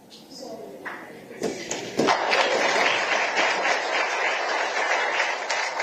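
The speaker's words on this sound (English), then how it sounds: "how we give thanks, especially to our elders, is to kneel down and clap." Children at a climate summit in Addis Ababa kneel and clap to give thanks in the Zambian way, a few sharp separate claps first, then a loud dense round of clapping mixed with cheering voices.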